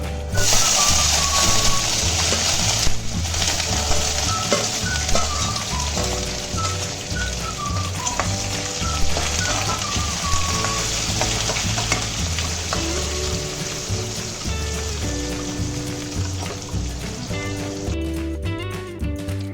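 Dried chillies, garlic, onion and curry leaves fry loudly in oil for a Kerala-style sambar, a dense, continuous crackling sizzle with occasional stirring and faint background music.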